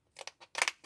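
Paper being trimmed with scissors for a homemade Christmas chocolate box: several quick, close snips in two short bursts, crisp and fairly quiet, with no talking.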